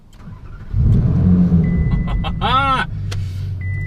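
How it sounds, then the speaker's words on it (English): A Ferrari engine cranks and fires up close by, jumping to a loud, steady idle with a brief rising rev, accompanied by short beeps and electronic tones from the car. "Engine on."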